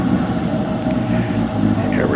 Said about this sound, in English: don't forget to hit your Z mode button so we can hear that exhaust